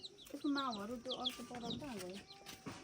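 Hens clucking close by in a rural Nepali household, a run of short, rising and falling calls repeated over a few seconds, with a voice briefly mixed in.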